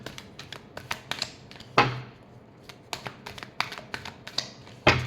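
Tarot cards are shuffled by hand at close range, giving a run of quick, crisp taps and flicks with a couple of louder riffling snaps, no talking.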